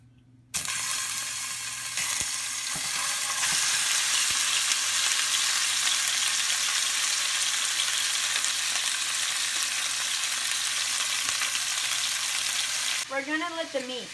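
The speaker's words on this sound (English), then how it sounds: "We're going to let the meat sear on all sides." Meat pieces sear in a hot pan with onions, a steady loud sizzle that starts abruptly and holds for several seconds, with occasional scrapes of stirring and a brief bubbling tail at the end.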